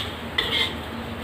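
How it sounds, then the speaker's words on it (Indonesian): Napa cabbage and egg stirred in a pan, with a short metallic scrape and clink of a utensil against the pan over a steady low sizzle. "Aduk terus"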